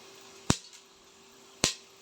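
Two sharp crackling pops about a second apart, fairly close, as peppercorns burst in hot oil over a faint steady hiss, with no voices.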